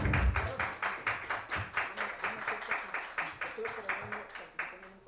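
An audience at the close of an international seminar on ICT regulation applauds the lecturer, with a steady run of distinct, rhythmic claps of moderate loudness carrying on for several seconds.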